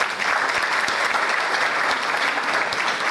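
An audience at an oath ceremony and mushaira gathering claps in a dense, sustained burst of applause that fills the room evenly from start to end.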